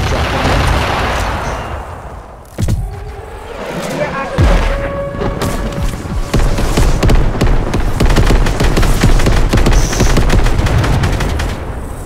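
Missiles dropping and exploding in the video game Fortnite, a dense, loud barrage of rapid blasts and booms with thumping impacts, going on with little pause while voices talk over it.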